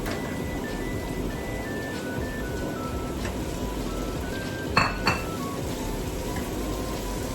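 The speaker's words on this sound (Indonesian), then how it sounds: "Kita tumis dulu pemirsa sampai dia setengah matang ya." Shrimp stir-fry in a pan, a steady, moderately loud hiss with a couple of brief metallic clinks near the middle and faint tones from nearby sounds, with no talk.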